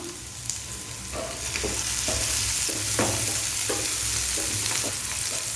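Spring onion whites stir-fried with garlic in hot oil, a steady close sizzle broken by repeated scraping stirs of a spatula through the pan.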